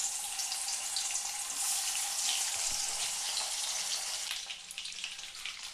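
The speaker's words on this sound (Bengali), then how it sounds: "বাকি মাছও আমি ভেজে নেব।" Khoyra fish frying in hot oil, a steady bright sizzle and crackle running close and loud throughout with slight variations in intensity near the end.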